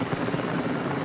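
Helicopter rotor and engine roaring steadily and loud, close overhead as it drops water on a large fire of manure and horse bedding along Olive Hill Road.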